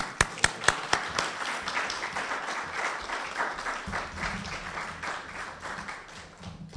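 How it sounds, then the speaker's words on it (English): Audience applause at an evening presentation on local LGBTQ history, opening with a few sharp nearby claps before settling into steady, moderate clapping from a seated crowd that slowly thins toward the end. "We can continue with that applause"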